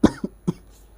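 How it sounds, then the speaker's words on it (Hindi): A few short coughs in quick succession, the first strongest, then two lighter ones, close up in an otherwise quiet room. "अरे खांसी आ रही है थोड़ी सी।"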